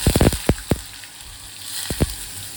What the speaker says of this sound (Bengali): পনিরের টুকরোগুলো একটু ভাজা ভাজা হবে, একটু লালচে দেখতে হওয়া অবধি অপেক্ষা করতে হবে।